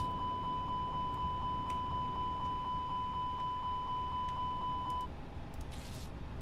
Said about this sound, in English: Engine number 2 fire test.